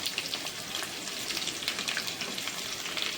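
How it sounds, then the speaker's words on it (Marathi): Chopped capsicum and onion hit a hot pan while cooking Manchurian at home, giving a loud, continuous crackling sizzle with fine popping spatters close to the microphone, no voices over it. "आता ना त्याच्यात कांद्याची पात सोडून सगळे भाजी टाकूया. पहिली शिमला मिरची, त्याच्यानंतर कांदो"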